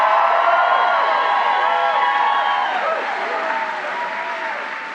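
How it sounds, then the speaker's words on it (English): Sustained audience applause fills a political rally hall, dense and steady with faint cheers mixed in, gradually tapering in volume over several seconds. "let's give a round of applause to John Featherson and Steve Robinson"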